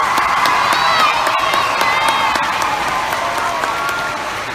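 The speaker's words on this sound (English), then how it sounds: "Let's give a round of applause for the final five at the Olympics." Dense, loud applause and cheering from a large crowd at a live public appearance honoring an Olympic gymnastics team, steady throughout with high whoops and shouts riding over the clapping.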